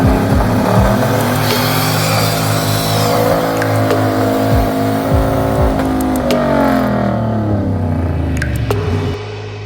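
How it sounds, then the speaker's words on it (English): A big-turbo LS-powered truck does a burnout at a car show, its engine holding a loud, sustained high-rev roar with shifting pitch and crackles before easing off at the end, heard up close. "But the day wouldn't be complete without trying to do a burnout."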